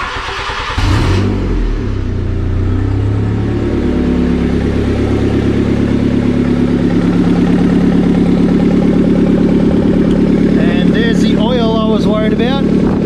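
A Honda D16 engine fitted with a cheap aftermarket turbo kit and no exhaust, venting straight from the turbo downpipe, idles loudly and steadily with a rough, droning rumble and metallic clatter, while someone talks over it near the end.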